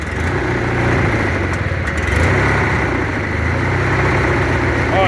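An MTD small engine runs without choke, a loud, close, steady rough drone with slight unevenness throughout.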